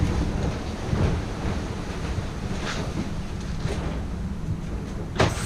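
Storm-force waves at sea surge and crash around a Lagoon 400 catamaran, with heavy wind buffeting the microphone, a steady roar of surf and a few sharp splashing hits, and no voices.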